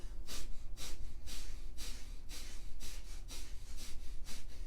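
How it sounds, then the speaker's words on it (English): Rapid, rhythmic yoga breath-of-fire breathing, short forceful puffs in and out through the nose at an even pace, roughly two per second, close and clear. "breath of fire is a rhythmic pumping of the navel, breathing in and out through the nose"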